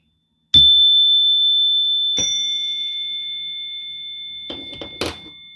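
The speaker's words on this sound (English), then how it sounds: "It's a suggestion bell," A few electronic bell dings from a phone app: a clear tonal chime sounds alone, then a second, and short tapping noises follow near the end.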